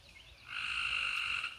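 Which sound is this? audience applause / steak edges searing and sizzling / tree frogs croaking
tree frogs croaking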